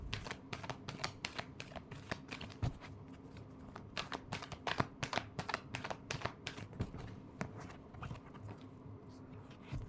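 Tarot cards shuffled by hand for a reading, a rapid run of crisp riffling and slapping bursts that continues steadily, close and alone.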